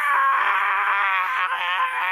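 A human voice imitates charging elephants screaming: a loud, sustained, high-pitched wail lasting about two seconds, steady and close, with no other sounds.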